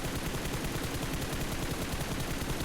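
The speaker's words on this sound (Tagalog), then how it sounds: "tingnan nyo yung firing ko. Pag nag-firing ako" Rapid gunfire in the PUBG Mobile shooter game, a continuous fast stream of dense loud shots at close range with no talking.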